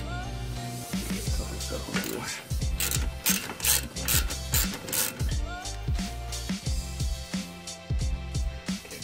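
A hand ratchet snugs a bolt on a car's front suspension during an air-bag suspension install, clicking in quick repeated bursts with metallic clanks and creaks between strokes, close and loud.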